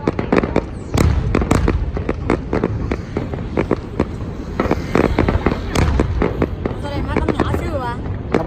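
New Year 2020 fireworks bursting over the Landmark 81 tower, a dense series of loud sharp cracks and booms in rapid irregular succession, close by, with people talking and cheering underneath.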